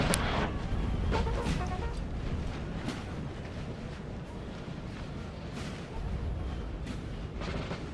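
Booming artillery salvos from 4-pounder cannons on a Napoleon Total War battlefield, a dense, continuous rumble of repeated thuds and cracks with several sharper reports standing out, loud and sustained with no talk.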